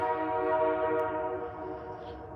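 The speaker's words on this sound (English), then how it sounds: "So the trains are just coming through" A long freight train rumbles past with a sustained, droning horn-like tone over low mechanical rolling noise, fairly close and steady.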